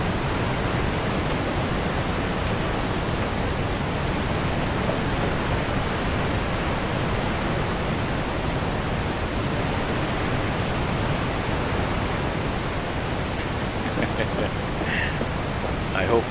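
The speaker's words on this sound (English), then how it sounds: "You can see the waterfall in action." A loud waterfall roars close by, a dense, unbroken broadband rush that holds steady the whole time with no voice over it.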